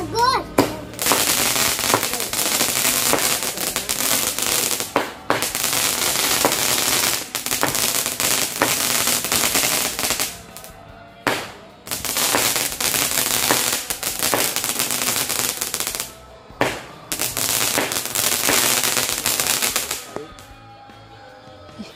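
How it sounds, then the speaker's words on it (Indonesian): A cobra-type firecracker bursting on Takbiran night, long dense crackling salvos of rapid pops with brief pauses between bursts, loud and close, with people talking underneath. "Wow, mantap sekali teman-teman mercon kobranya."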